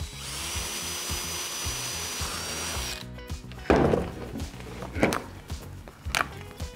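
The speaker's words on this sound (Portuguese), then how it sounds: "Será que se furar também rola?" A power drill bores into a pane of smart liquid-crystal glass, a steady close whine for a few seconds followed by rough grinding and scraping bursts as the bit bites through.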